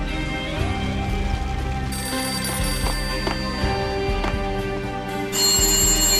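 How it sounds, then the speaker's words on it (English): A battered telephone rings in a building's entrance hall in the Max Payne video game, with repeated bell-like ringing over a steady, dense bed of game ambience and music. "A beaten-up phone in the entrance hall was ringing."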